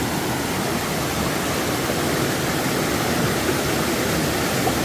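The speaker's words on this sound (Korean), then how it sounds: "이 거대한 이 바위 사이에서 오른쪽으로 내려오는 물이에요. 이제 이렇게 내려와서 여기서 이제 폭포를 한번 이루네." Valley stream water tumbling between huge boulders and dropping over rocks as a small waterfall in a gorge, a steady close, loud broadband rush that holds unbroken the whole time with no voices.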